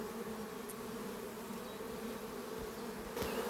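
Honeybees buzz steadily around an apiary hive, a soft, continuous hum heard close by and alone, with a couple of brief louder passes near the end.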